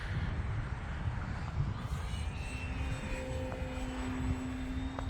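An Arrows Husky Ultimate RC model airplane flies on a windy day, its small engine whining steadily at a distance with shifting pitch under heavy wind buffeting.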